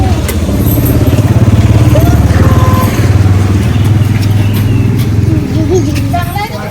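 A car engine runs close by, a loud, steady low rumble with a pulsing throb that holds throughout, with slight shifts in pitch as it idles or moves.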